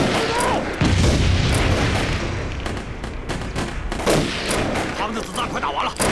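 Gunfire crackles through a war drama battle scene set among grassland fighters resisting Japanese invaders, with dense shots and booms layered over a noisy, continuous din that swells around one and four seconds.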